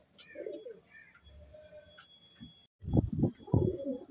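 Old-bloodline Madrasi/Andhra pigeons in a loft at Sodhpur give soft, repeated throaty coos in short bursts, near and faint, followed by a louder flurry of fluttering and scuffling close by.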